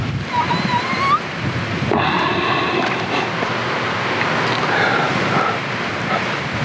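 Strong wind roars steadily throughout, a broad rushing noise buffeting close by, with brief whistling tones early on.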